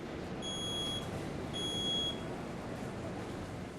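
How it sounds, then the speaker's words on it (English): A household smoke alarm beeps during a Christmas-presents fire demonstration, thin high-pitched tones coming in two longish bursts over a steady roaring, crackling background of flames. "Already the smoke alarm is sounding, giving early warning and plenty of time to get out."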